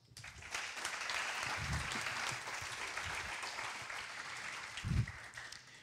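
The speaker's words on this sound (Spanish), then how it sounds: "Un fuerte aplauso." An audience at a university science lecture gives steady, sustained applause for several seconds, moderately faint and diffuse, with a couple of low bumps near the end.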